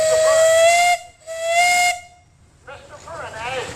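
A steam engine's whistle sounds at an outdoor power show parade, two loud, close, sustained shrieking blasts with a brief gap between them, followed by fainter hissing steam and a murmur of voices.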